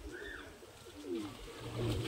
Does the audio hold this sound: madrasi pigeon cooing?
yes